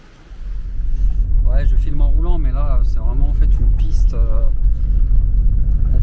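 A car rolls along a rough dirt track toward a remote lake in Bosnia, with a loud, continuous low engine and road rumble from inside the cabin while someone talks over it.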